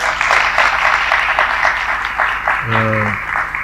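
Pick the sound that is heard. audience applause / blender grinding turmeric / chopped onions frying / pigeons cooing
audience applause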